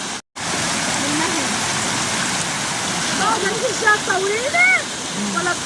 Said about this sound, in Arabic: من تحت هيدا الجبل ينبع هيدا النبع.